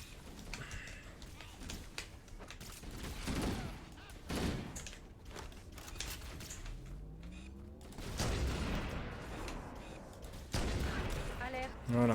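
Halo CE turret firing during gameplay, repeated bursts of heavy gunfire and explosions spread through the stretch, loud and dense with game effects mixed in.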